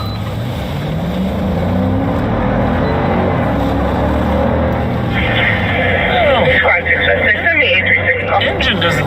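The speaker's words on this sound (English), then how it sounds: "Engine doesn't sound as good as normal." A police patrol car's engine runs steadily during a pursuit, a low continuous drone with a faint rise and fall in pitch, heard inside the cabin under crackling radio chatter and an officer's voice.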